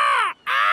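Cartoon seagulls give two loud harsh caws with a brief gap between them, close and alone, as the birds raid raspberries in a garden by the beach.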